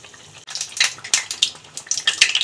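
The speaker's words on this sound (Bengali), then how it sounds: "এই দেখো পুরো ফুলকো ফুলকো মালপোয়া আমার এতগুলো ভাজা হয়ে গেছে, এখনো ভাজছি" Malpua batter, here palm-fruit malpua puffing up in hot oil, fries with bursts of crisp, bubbling sizzle that rise and fall in quick irregular pulses, close and fairly loud.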